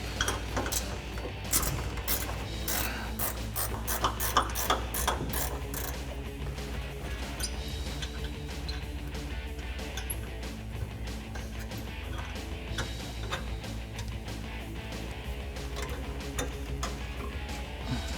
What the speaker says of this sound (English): So now we're going to take my 13mm ratcheting wrench, remove this bolt here holding this bracket on that holds our brake line.